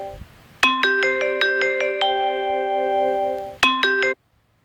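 A phone rings with an incoming call, a bright melodic ringtone playing a run of stepped notes that repeats briefly before cutting off, loud and clear with no talking.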